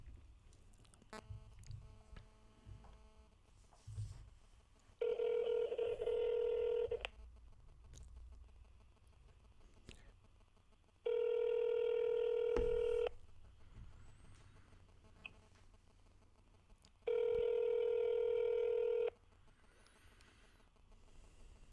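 Three long telephone dialing tones sound at a steady level, each lasting about two seconds with gaps between, while a call is being placed. Faint room noise and a few soft clicks fill the pauses.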